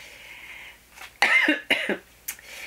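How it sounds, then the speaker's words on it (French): A woman coughs several times up close, sharp separate bursts with short pauses between them, after a brief moment of quiet. "Excusez-moi, je tousse."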